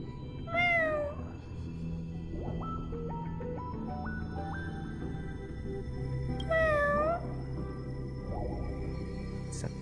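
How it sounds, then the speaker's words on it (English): Two drawn-out meows from a cat in the Honkai Star Rail video game sound over a soft musical background with stepped synth tones between them. "It's a cat."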